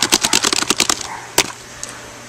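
Rapid keystrokes on a keyboard clatter in a quick burst of about a dozen sharp taps, followed by a pause, one louder final key press and a faint later click.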